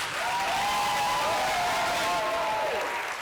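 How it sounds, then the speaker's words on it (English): Audience applause at a performance night, a steady, dense wash of clapping that holds evenly throughout, with a faint tonal line threading beneath it. "Can we have your applause, please, for Adriano and Ines?"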